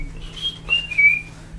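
A person whistles a short rising-and-falling tune of two or three clear, thin notes, close and fairly quiet, with a low steady hum underneath and no talking.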